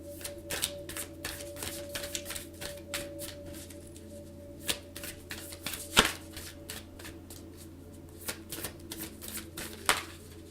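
Oracle cards being shuffled by hand during a chakra card reading, a steady run of soft riffling and slapping with several sharper card snaps, close and fairly quiet, with no talking.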